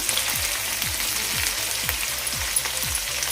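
Finely chopped tomato fries with onion in a hot pan, a steady close sizzle with soft regular stirring scrapes and no voices.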